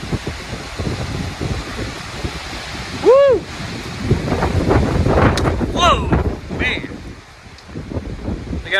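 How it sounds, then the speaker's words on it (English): Strong wind gusts of roughly 60 to 70 mph tear through Pullman, Washington, in a dust storm. The wind roars and buffets the microphone in heavy, shifting surges while a voice whoops and exclaims partway through. "That is strong wind. That is like 60, maybe 70 miles per hour."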